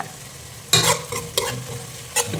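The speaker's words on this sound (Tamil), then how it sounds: "வெங்காயம் நல்லா வதங்கட்டும்." Onions and cumin frying in a pan for a village-style fish curry, with a low sizzle broken by several loud bursts of stirring and scraping. No one speaks.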